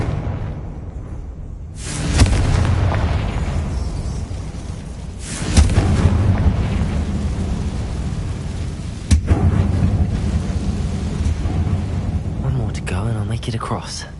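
Three booming blasts from a fire spell in Hogwarts Legacy go off at intervals, each a sudden deep explosion that fades slowly into a low rumble, with soft speech between them.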